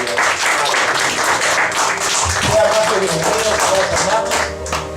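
A church congregation claps together in a steady, dense burst of applause, loud and close, with voices calling out over it before it thins near the end.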